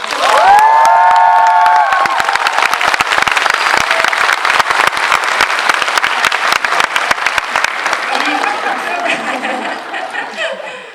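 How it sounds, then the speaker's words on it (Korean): Korean audience applauding the director and cast of Parasite to celebrate the film's Cannes Palme d'Or win, loud sustained clapping from a large crowd with some cheering, tapering slightly toward the end. "한국 관객들이 쳐주시는 박수이기 때문에 조금 남다른 박수일 것 같고요"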